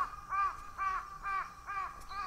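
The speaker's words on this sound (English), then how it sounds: "Some crows." Crows caw in a Japanese neighborhood during a nature walk, five clear, evenly spaced harsh caws ringing out fairly close in an otherwise quiet outdoor setting.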